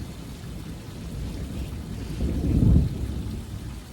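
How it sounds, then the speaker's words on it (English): Low rumbling thunder from a thunderstorm swells over a garden, peaking briefly before fading, with a wash of rain-like noise throughout. "That is thunder."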